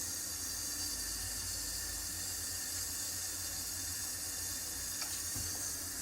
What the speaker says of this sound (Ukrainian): Беремо спочатку наливаємо воду в чайник.